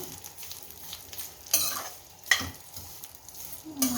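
Vermicelli roasts in ghee while being stirred, giving a soft, quiet sizzle broken by three distinct scraping strokes of the spoon against the pan.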